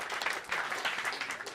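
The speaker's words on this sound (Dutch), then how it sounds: "Even applaus voor al deze mensen." Brief burst of audience applause at a children's robot show, lively uneven clapping with quick rises and dips over a second and a half.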